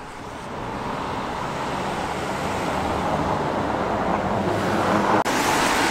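Steady roar of a car driving along a road past a surviving vintage garage in Much Wenlock, a continuous loud rush of tyre and traffic noise with a brief dip near the end, no talk.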